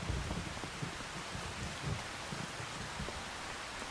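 Steady rain in Farming Simulator 25 at Riversbend: a constant, even hiss of falling rain with soft low rumbles beneath, unbroken and fairly quiet, with no voices.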